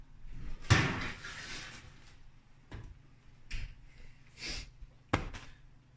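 A kitchen oven door is opened, giving a quiet clunk followed by a few soft knocks and thuds at close range, with no talking.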